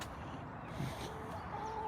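Chickens in a coop in London cluck softly and intermittently nearby, a low murmur of fowl sounds with one brief higher call near the end.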